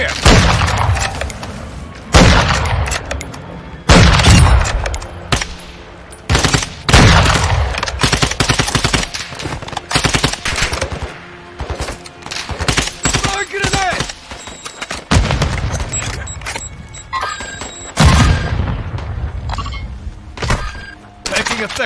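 Gunfire in a shooter video game: repeated loud bursts of automatic weapon fire and heavy thuds come in waves, with a voice speaking briefly between the volleys.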